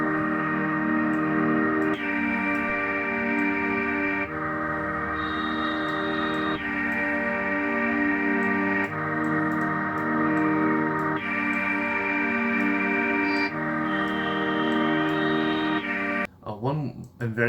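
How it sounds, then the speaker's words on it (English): Layered Omnisphere synthesizer chords change every couple of seconds, washed in reverb and chorus-like shimmer, ending in a brief warbling sweep. "I'm also going to add some effects to the whole sound to make it a little more unified"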